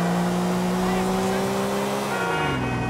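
A car engine drones steadily in Grand Theft Auto IV: The Ballad of Gay Tony, its pitch holding then sliding down near the end, with tire noise and game sound mixed in.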